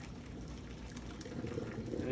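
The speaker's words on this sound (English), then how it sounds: "We want to start pouring off this water." Hot water poured off boiled farm-fresh eggs in a pot, a quiet, continuous liquid splash and gurgle at close range.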